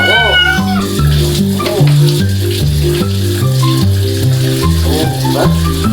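A pet cat meows and caterwauls repeatedly, loud and close, while being bathed, over a thumping music track.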